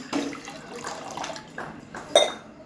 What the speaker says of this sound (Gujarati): પાણી નાખવાનું છે તમારે